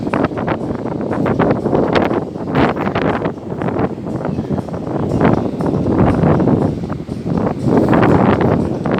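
Stormy wind off the sea at Arkhipo-Osipovka, loud gusts buffeting close by in continuous waves of roaring noise, with no talking.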